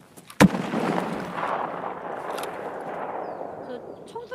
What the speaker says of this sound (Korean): 그 총소리 뭐야?